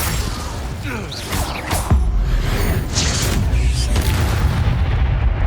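Spell blasts from Confringo and Incendio in the Hogwarts Legacy video game: a run of loud booming bursts and whooshes over steady game rumble, several sharp hits close together with no voices.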